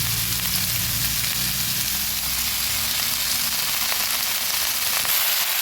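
Chopped red spinach hits hot oil seasoned with ginger, turmeric and salt, producing a loud, dense, continuous sizzle and crackle up close, steady throughout with no talk.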